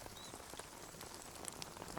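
Rain falls steadily on a surface, a dense patter of drops with no pauses and no voices over it.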